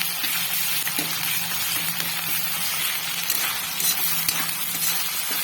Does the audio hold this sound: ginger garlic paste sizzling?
yes